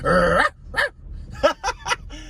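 A man imitates a chihuahua barking, voicing a drawn-out whiny yelp followed by several quick yappy barks in a row, close and loud.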